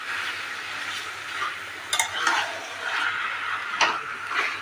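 Chicken coated in spices being stirred in a pan, with soft scraping and light sizzling, punctuated by a few sharper clinks of a utensil against the pan.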